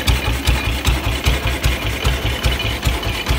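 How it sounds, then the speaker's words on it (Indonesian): A BSA M21 600cc side-valve motorcycle engine idles close up, with a steady, slow, evenly spaced thumping beat and a loud mechanical clatter throughout. "ini dia suara BSA M21"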